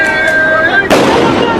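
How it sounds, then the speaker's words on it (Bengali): During a street clash at Satmatha in Bogura, a gun is fired to scatter crowds of students. A single sharp, very loud bang cuts through a droning background, then a harsh noisy tail fades out. "আপনারা অবশ্যই মুহুর্মুহু শব্দ শুনতে পাচ্ছেন বন্দুকের আওয়াজ"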